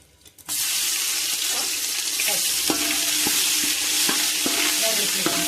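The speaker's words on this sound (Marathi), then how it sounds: "आता बघा अद्रक लसूण टाकायची भाजीला" Ginger and garlic hit a hot pan of vegetables for chicken biryani, bursting into a loud, steady sizzle after a brief quiet moment, with occasional clicks of stirring throughout.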